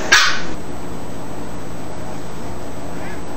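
A dog gives a single short, loud bark right at the start, then the rest stays quiet with only a faint background hum.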